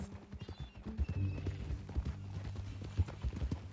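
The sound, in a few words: horse hooves clip-clopping in Red Dead Redemption 2 video game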